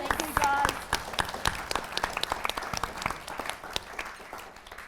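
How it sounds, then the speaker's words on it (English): An audience at a winter panel discussion applauds the panelists, sustained clapping from a room of people with brief speech mixed in. "let's have a round of applause for the panel"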